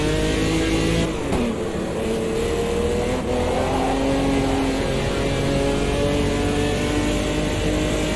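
A race car in Automobilista 2 revs hard and continuously. The loud, close engine note rises and falls with gear changes over several seconds, and no one speaks.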